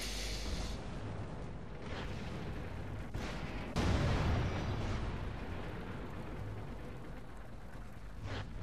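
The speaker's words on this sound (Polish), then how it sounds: "O, artyleria strzela?" Artillery fires in the World of Tanks battle on the El Haluf map: a heavy boom bursts out mid-clip and fades over a steady rumble of engines and battle ambience.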